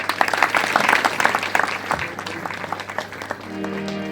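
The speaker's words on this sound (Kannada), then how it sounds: "ಜೋರಿ ಚಪ್ಪಾಳೆ ಹಾಕಿ" A burst of clapping from an audience at a spiritual discourse, fairly close, fading out after a few seconds as a steady tone begins.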